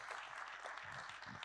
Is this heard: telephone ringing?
no